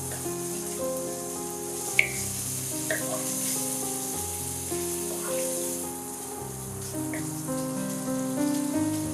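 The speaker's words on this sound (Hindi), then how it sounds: "एक मिनट के लिए चिकन को पका लेते हैं हम।" Chicken sizzles and fries in a pan for a white sauce pasta, a steady close crackling hiss with occasional stirring clinks and no talking.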